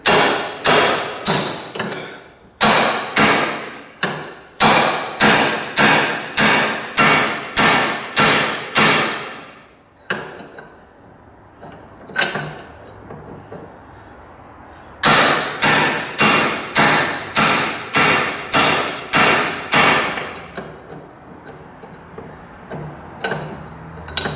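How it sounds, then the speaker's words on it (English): Steel punch struck repeatedly with a hammer to knock loose the drag link on a Ford 5610 tractor: loud, close, sharp metallic blows in two long rapid runs separated by a short pause with a few softer knocks. "We'll see if I can knock the drag link loose"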